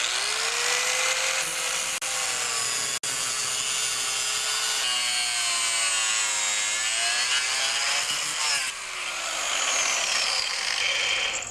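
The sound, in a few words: grinder cutting off handle mount on chainsaw bike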